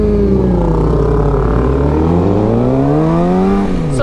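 A motorcycle engine revs loud and close as the rider sets off, its pitch climbing and sweeping through several rising gear changes over a few seconds, with no voices.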